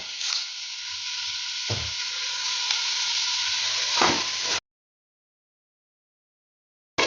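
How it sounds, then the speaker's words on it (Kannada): Curry leaves frying in hot oil hiss in a loud, close, steady sizzle with a couple of stirring scrapes, cutting off abruptly to silence partway through before a brief return at the end. "ಇದು ಸ್ವಲ್ಪ ಫ್ರೈ ಆದರೆ ಸಾಕು, ಬಾಡಿದ್ರೆ ಆಯ್ತು."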